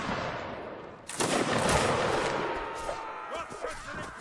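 Rapid bursts of gunfire erupt in a video game battle, loud and sustained, with overlapping shots continuing after a sudden start.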